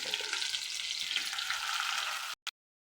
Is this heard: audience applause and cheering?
no